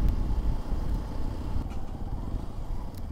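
A 2025 Hero Xpulse 210 motorcycle leans through a turn, its engine giving a steady, close low rumble mixed with rushing wind noise throughout, with no talking.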